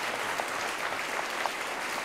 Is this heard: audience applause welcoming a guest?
yes